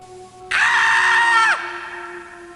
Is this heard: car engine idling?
no